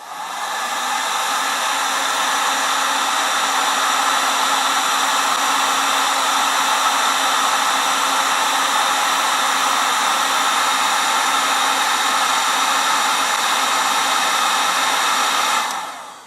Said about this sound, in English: we need to use the heat gun to establish if it's a positive or a negative temperature coefficient